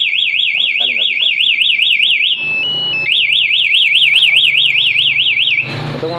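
Yamaha NMAX 2020 scooter anti-theft alarm wailing loudly up close, a rapid warbling siren that breaks off briefly near the middle, resumes and then cuts out, with faint talk in the background.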